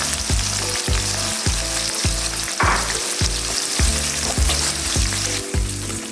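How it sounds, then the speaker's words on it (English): Onions fry until golden brown for a goat mutton biryani, a loud, steady sizzle with repeated scraping stirs in a regular rhythm, close up and with no voices. "First thing, we are gonna fry the onions."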